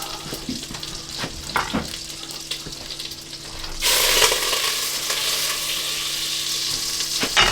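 Butter for a potato ham soup hits a hot pan and erupts into a loud, sustained sizzle midway, after a stretch of quieter kitchen clatter and light taps.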